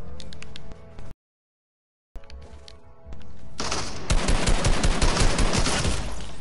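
Heavy video game gunfire: a few sharp shots, a brief dropout to silence, then loud sustained rapid automatic fire that continues to the end.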